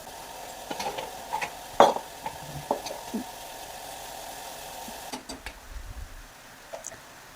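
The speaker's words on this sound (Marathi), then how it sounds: "कांदा अद्रक लसूण पेस्ट आणि आपली जिरी मोहरी जी आहे ती छान अशी परतून घ्यायची आहे" Onion, ginger-garlic paste, cumin and mustard seeds sautéing in a pan for a mixed brinjal, potato and drumstick curry, with soft steady sizzling under occasional stirring scrapes and a few sharp utensil clinks, no talking.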